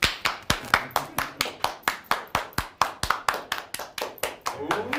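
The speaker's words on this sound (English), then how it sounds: "Everybody clap your hands" Close, loud handclaps keep a brisk steady beat, one person clapping at an even pace, with a little faint background noise underneath.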